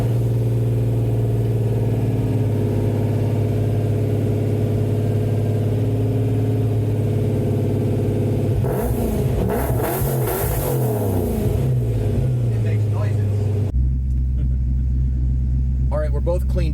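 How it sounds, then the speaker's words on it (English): A repaired car's engine runs steadily and loudly with a low rumble, briefly revving in the middle before settling back to a deep idle, with some voices over it. "The car's running, as you can probably hear from all the sounds that are happening in your ear hole."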